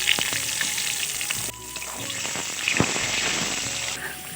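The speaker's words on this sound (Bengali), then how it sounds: "তেল গরম হয়ে গেছে, এবার আলুগুলো ভেজে নেব" Potatoes frying in hot oil in a kadai with salt and turmeric give a steady, close sizzle with crackling bursts and a few stirring scrapes throughout.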